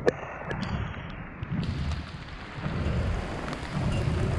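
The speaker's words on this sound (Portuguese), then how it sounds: "uma chuva aqui em Manaus, no meio da floresta" Heavy rain pours steadily in the Amazon rainforest near Manaus on a weekday morning, a dense continuous hiss with low rumbling beneath, close and fairly loud throughout.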